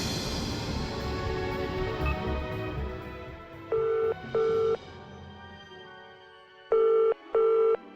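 A phone rings unanswered in pairs of electronic tones, two bursts mid-clip and two more near the end, loud and clear over a fading musical background with no talk.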